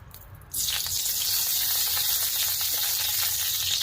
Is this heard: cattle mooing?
no